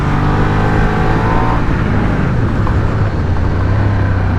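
A Ducati Diavel Dark Edition motorcycle accelerating, its engine note loud and close, climbing in pitch as it pulls hard, with steady road roar underneath and no speech.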